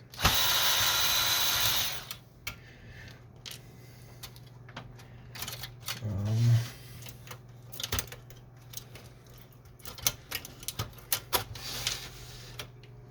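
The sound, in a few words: screws being removed while taking apart an Epson Workforce 633 printer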